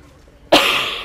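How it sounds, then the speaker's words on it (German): A single loud, close cough bursts out from a person with a lingering cold after a quiet moment, trailing off into a short breathy tail. "Ich hoffe, ich denke dran, das Husten rauszuschneiden."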